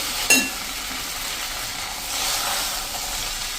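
Boiled poha being stirred together with the tempering in a pan: a soft, steady sizzle and scraping hiss, with one sharp clink of the spoon near the start, close and moderately loud.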